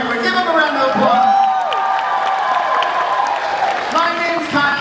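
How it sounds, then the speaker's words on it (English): An audience at Six Flags Fiesta Texas applauds and cheers the Forever Hollywood cast, a loud sustained wash of clapping with whoops and crowd voices throughout. "Give them a round of applause."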